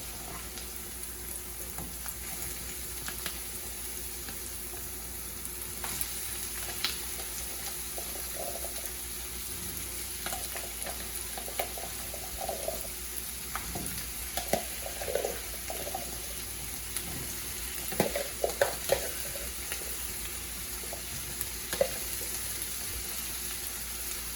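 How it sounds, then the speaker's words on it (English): Chickpeas fry in a pot with a steady sizzle and constant hiss, punctuated by scattered clicks and scraping stirs, close by and without talk. "I'm gonna go ahead and add my chickpeas, garbanzo bean, channa into the frying pot right now."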